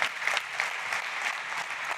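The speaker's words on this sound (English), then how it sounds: "Okay, big applause to Malta." Audience at a fintech and insurtech startup competition claps in a dense, steady burst of applause that holds at an even level throughout.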